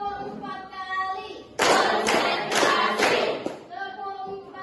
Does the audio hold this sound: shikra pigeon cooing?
no